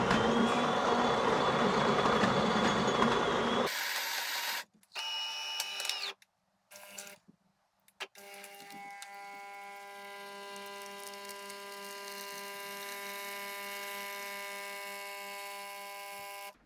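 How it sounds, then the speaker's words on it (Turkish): A Delonghi Ecam 23.420 SW fully automatic coffee machine brewing two coffees at once: a loud grinding whirr for several seconds, a few stop-start pump bursts, then a steady humming buzz with tonal whine as the coffee pours. "İki normal kahve ayarında ortalama Ortalama bu şekilde kahve yapıyor."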